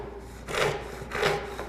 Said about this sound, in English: This saw is so aggressive, the way it's sharpened, it's hard to make light cuts like this.